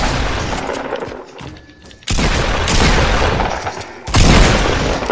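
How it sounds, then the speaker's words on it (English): Dense, loud gunfire from a Fortnite match, sustained bursts and booming shots filling the space with a brief lull before the firing resumes even louder. "This guy just was shooting at me."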